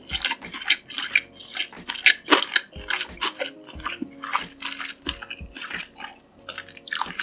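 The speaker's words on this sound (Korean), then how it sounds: "김밥을 이렇게 마요네즈 더 뿌려서 먹어볼게요" Close, wet chewing of gimbap drizzled with extra mayonnaise, with soft squishy bites and smacking in an irregular rhythm and faint clinks of utensils, with no talking.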